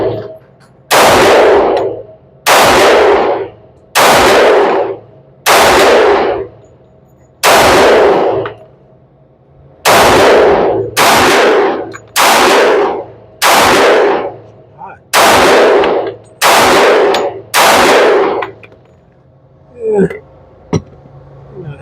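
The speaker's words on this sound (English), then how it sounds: "Shooting this 10mm Glock 20c with the comp." A 10mm Glock 20c pistol fitted with a compensator fires about a dozen sharp, loud shots in a steady, evenly spaced string, one shot every second or two. Each report rings briefly before the next, and a few small clicks follow the last one.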